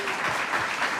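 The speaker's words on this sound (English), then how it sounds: "Let's give her a round of applause." A round of applause from an audience at a New York economic development announcement by the governor, steady dense clapping throughout, moderately loud and without speech.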